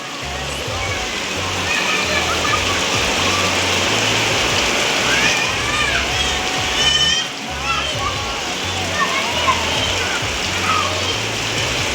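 Steady heavy rain pouring down as children bathe and play outdoors in it, a constant loud hiss of water and splashing with voices talking and calling over it throughout.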